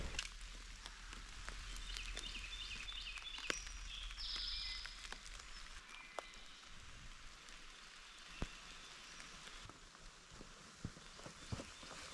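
Rain falling steadily in a Pennsylvania hemlock forest makes a soft, even hiss throughout, dotted with scattered sharp drips and taps.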